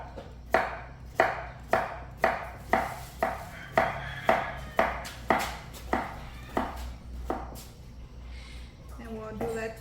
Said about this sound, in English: I've already washed my potatoes, so we're just gonna go ahead and chop them up.